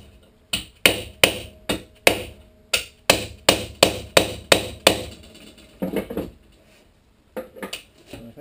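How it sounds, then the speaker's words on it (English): A hammer beating a curved piece into place on a teardrop trailer build: about a dozen sharp, evenly spaced blows close by, then a pause and a few lighter taps. "And I just start beating it into place with a hammer."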